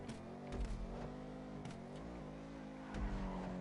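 Video game car accelerating toward top speed in a PS4 racing game, a steady engine drone with rising and falling rev tones and a few brief louder surges, close and without talk.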